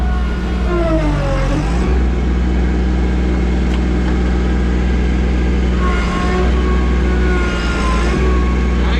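A tractor engine runs steadily with a deep, loud drone, its pitch dipping and rising a few times as the throttle shifts, with no one speaking over it.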